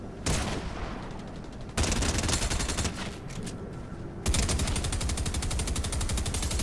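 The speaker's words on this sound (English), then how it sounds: "I knew it was a combat SMG." Combat SMG fire in the video game Fortnite, rapid continuous bursts of automatic gunfire in three long strings separated by brief breaks, loud and dense.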